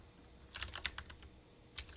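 Quiet keystrokes on a computer keyboard come in two short bursts of rapid typing, with a pause between them, during game development work.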